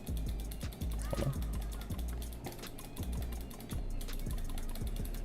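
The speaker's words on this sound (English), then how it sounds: "Listen to that mechanical keyboard go." Rapid, irregular clacks from a mechanical keyboard during a Grounded gaming session, the crisp key strikes clattering close over a steady wash of background noise.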